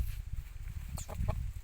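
Short clucking calls from an aseel rooster sound briefly over a low, rumbling background noise, a few quick vocal bursts close by.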